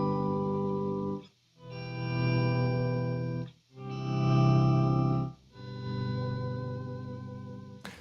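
Electric guitar played through an Electro-Harmonix POG octave pedal on its own, producing three sustained swelling chords with stacked octave harmonics, each fading in and out with short gaps between them.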